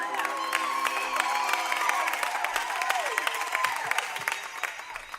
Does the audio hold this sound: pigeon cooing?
no